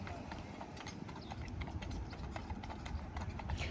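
Horse hooves clip-clop steadily on pavement as a horse and buggy ride passes in Intercourse, Lancaster County, Pennsylvania, a continuous rhythmic trotting under road and street background noise.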